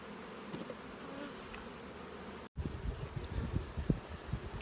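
Honey bees buzzing around nuc boxes in a spring apiary, a soft continuous hum with individual bees whizzing past close by, faint overall with a brief cut midway.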